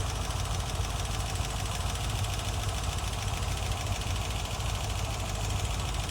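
A 1960s Corvette C2 convertible's 327 V8 rated at 340 horsepower, fitted with an Edelbrock carburetor, runs steadily with a loud, dense low rumble and an even mechanical roar throughout, without pauses.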